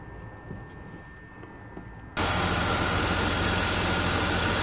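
A low car engine rumble idles quietly, then suddenly jumps to a much louder, broadband roar that stays steady to the end, during a camshaft hall sensor signal check for fault code P0340.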